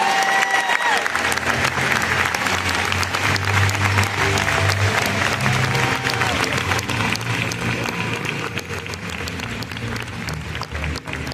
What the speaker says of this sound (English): Let's stand and applaud our top 20 and the sales director